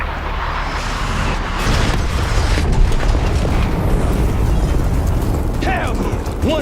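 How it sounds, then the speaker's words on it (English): A mortar strike in the video game Call of Duty: Black Ops 6 lands as a loud, sustained broadband rumble and boom that fills the scene, with chaotic crackling debris layered over it. "Mortar on the way."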